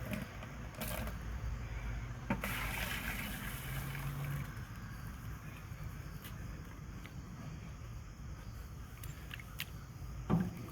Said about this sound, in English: Get rid of some of this excess water. We're not going to need all this water.